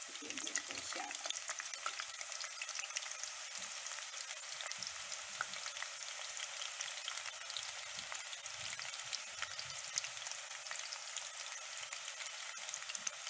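Shallots frying in hot pork lard, a steady dense sizzle with fine crackling bubbles and occasional soft stirring knocks, close and continuous with no talk.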